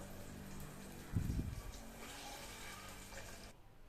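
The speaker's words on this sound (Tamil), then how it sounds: "தேவையான அளவு புளி தண்ணி ஊற்றிக்குவோம்." Tamarind water is poured into a fish curry, a soft, faint liquid splash that swells briefly early on and then trickles off quietly before stopping.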